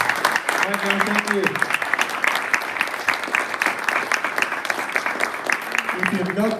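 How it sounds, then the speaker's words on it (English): An audience applauds the first speaker of the night at a tech meetup, a dense, steady wash of clapping filling the whole stretch while a voice speaks over it. "A big applause for him."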